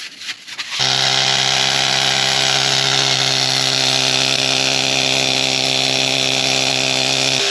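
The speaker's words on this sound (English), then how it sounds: "Dad loves his needle scaler," A pneumatic needle scaler chatters steadily on a 1939 Caterpillar D4 D4400 diesel cylinder head, cleaning rust and paint off the gasket surface, loud and continuous after a brief quieter start.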